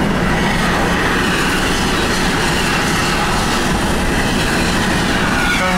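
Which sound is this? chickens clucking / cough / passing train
passing train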